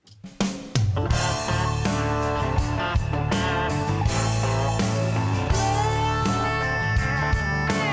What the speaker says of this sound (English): our second example is basically just kind of a country pop song